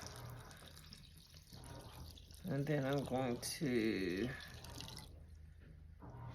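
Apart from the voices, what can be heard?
water poured into a pot of corn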